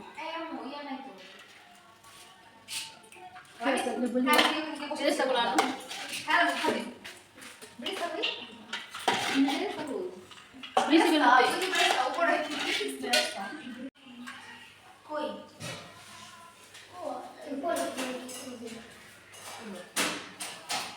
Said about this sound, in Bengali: এখন আমি এই যে এই পাতিলে এই মাংস দিব আর রাইস দিব মানে লেয়ারে লেয়ারে দিব